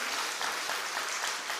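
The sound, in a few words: congregation applause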